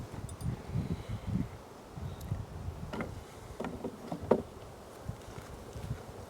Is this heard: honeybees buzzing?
yes